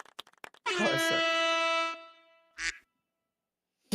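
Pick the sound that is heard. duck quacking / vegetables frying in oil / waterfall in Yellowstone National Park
duck quacking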